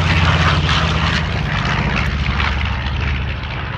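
B-25 bomber's propeller engines roar loudly and continuously at an air show, a dense, steady drone dominating the whole moment.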